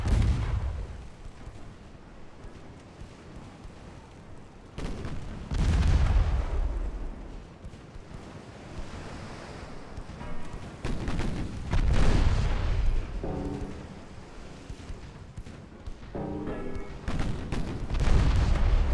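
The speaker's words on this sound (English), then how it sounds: "Those 7-inch guns." Seven-inch naval guns on a light cruiser firing in Ultimate Admiral Dreadnoughts, a series of deep booming salvos spaced a few seconds apart, heavy and rumbling with short crackling tails.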